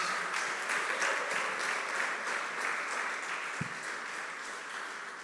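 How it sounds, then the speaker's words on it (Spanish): A church congregation applauds steadily for about five seconds, a broad, even wash of many hands clapping at moderate distance, easing slightly toward the end. "¿Por qué no le damos un aplauso a estos dos cristianos?"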